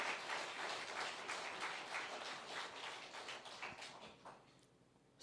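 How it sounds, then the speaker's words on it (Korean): Congregation clapping in a church service, a dense wash of many hands that fills most of the stretch and then thins and fades toward the end. "우리 하나님께 박수 한번 치죠."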